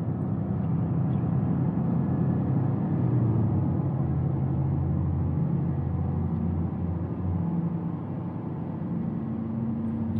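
Steady low road rumble heard from inside a 2020 Toyota Prius Prime while driving, an even, muffled drone of tires and cabin noise with no talk.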